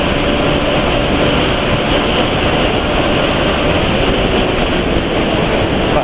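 A motor engine running on Mesran SAE 40 oil, its exhaust giving a steady, loud, dense roar that holds unchanged throughout, close to the microphone with no voices.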